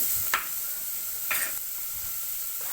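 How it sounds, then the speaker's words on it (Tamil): Onions sautéing on a low flame for a stingray fish curry, a soft continuous sizzle broken by two brief spoon scrapes against the pan, close and moderately quiet. "நல்லா சிம்மில் வச்சு வதக்குங்க வெங்காயம்லாம் நல்லா வதங்கட்டும்"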